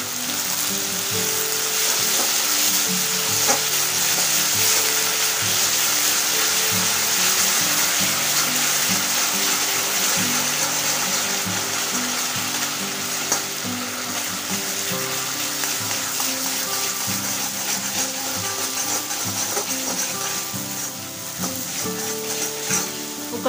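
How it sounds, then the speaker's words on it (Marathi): Boiled, grated potato being stirred and mixed in a frying pan for a fasting-day potato halwa, with a steady, loud sizzle and scraping stirs running continuously throughout, no talking. "हा बटाटा आपण यामध्ये व्यवस्थित मिक्स करून घेऊया।"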